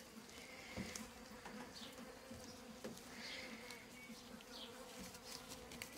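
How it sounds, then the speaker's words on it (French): Flies buzz around a chicken autopsy in hot weather. Several insects whine close by in a continuous drone with rising and falling passes over a low background hum. "Il fait très chaud, donc il y a pas mal de mouches."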